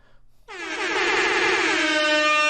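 A loud air horn blares after a short moment of near-silence and holds a steady, brassy blast to the end.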